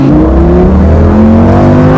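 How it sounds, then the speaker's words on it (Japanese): A Lamborghini Gallardo pulls away hard from a standing start, its engine note climbing steadily through the revs, loud and close with no voices. "さあゼロ発進からの加速"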